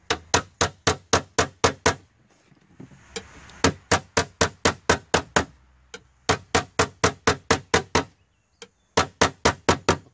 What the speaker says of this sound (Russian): Молоток средней тяжести.